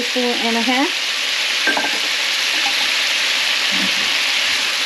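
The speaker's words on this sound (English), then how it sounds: "And saute your shrimp." Shrimp sauté with sauce in a pan for stir-fried glass noodles with bok choy, a steady bright sizzle with occasional stirring clatter of the utensil, close and continuous, no talking.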